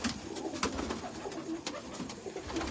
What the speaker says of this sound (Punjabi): ਫੈਸਲਾਬਾਦੀ ਪਿਓਰ ਜੌਂਸੜੇ ਕਬੂਤਰ ਨੇ।